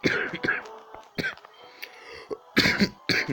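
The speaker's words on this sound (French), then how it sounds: "et je tousse" Several rough coughs and throat-clearing bursts come in quick clusters, close to the microphone, with breathy sounds in between.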